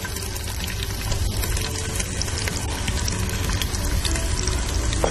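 Onion sizzling in a hot pan, a steady close crackle and hiss of frying that holds even and dense throughout with no voices.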